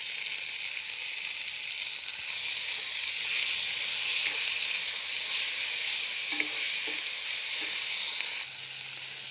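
Chopped tomatoes with ginger, garlic and onion fry in a pan, giving a steady close sizzling hiss with a few faint stirring knocks and no talking.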